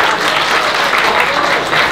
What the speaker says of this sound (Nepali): ताली दिँदै गर्नुहोस् है